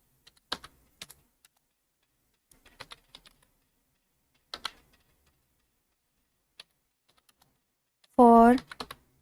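Scattered clicks of typing on a computer keyboard, a few quick keystrokes in small bursts with pauses between them, then a short loud tonal burst near the end.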